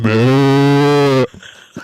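A man imitates a cow with one loud, drawn-out moo lasting over a second, followed by quieter murmuring talk.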